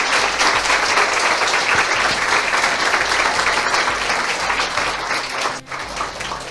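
A church congregation applauding for Jesus, loud and continuous clapping that fills the room, easing slightly near the end with no one talking.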